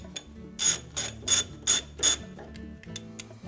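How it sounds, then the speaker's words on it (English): A ratchet wrench snaps a nylock nut loose on the drive pulley of a GE washing machine, giving five sharp, loud metallic clicking bursts in quick succession, followed by a few lighter ticks. "we're just going to give that a sharp snap with the ratchet just to break it free"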